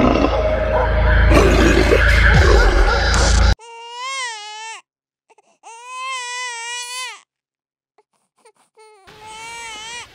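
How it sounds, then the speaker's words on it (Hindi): Loud rustling noise gives way to high, wavering infant cries in several bursts separated by silences, one baby wailing after another. "ये रोने की आवाज कहाँ से आ रही है?"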